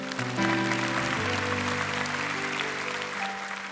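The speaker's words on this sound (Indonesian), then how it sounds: "Berikan tepuk tangan untuk Tuhan." A church congregation claps in praise during a sermon, the applause spreading through a large room while sustained organ or keyboard chords ring underneath and change pitch a few times.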